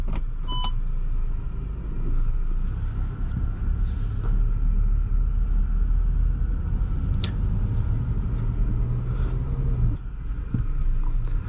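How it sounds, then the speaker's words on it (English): A 2024 Audi Q3 45 TFSI Premium Plus cruising on the road produces a steady low cabin rumble of tyre and engine noise, with a few brief chimes near the start and soft clicks throughout. "let's get this Audi Q3 on the road"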